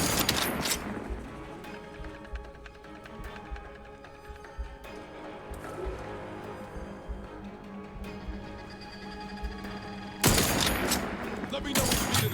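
Rifle gunfire in the sci-fi shooter Outer Worlds 2, with a loud burst of shots at the start and another near the end over a steady game soundtrack and effects.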